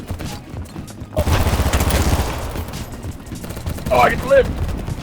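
Bursts of gunfire from a Desert Eagle pistol in the shooter game Battlebit Remastered, loud and close amid other battle noise, with a voice briefly speaking near the end.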